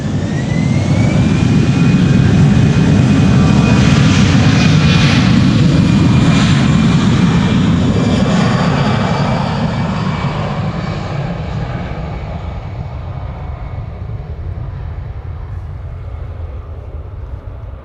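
A Croatia Airlines jet airliner in Star Alliance livery departs at Amsterdam Schiphol, a loud, steady roar with a rising whine that swells close by, then slowly fades as it recedes.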